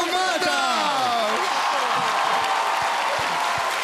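Studio audience applauding on a televised singing show, dense clapping and cheers that hold loud and steady while a voice sings over the opening seconds.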